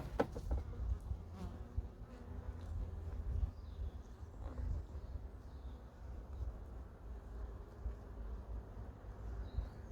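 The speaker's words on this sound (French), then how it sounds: "j'entends le frelon qui tourne autour" An Asian hornet buzzes steadily around beehives in an apiary, a continuous low droning hum that persists throughout at moderate distance, with a few faint clicks and no talking.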